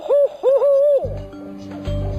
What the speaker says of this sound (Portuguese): A coruja barrada é um pássaro de porte médio.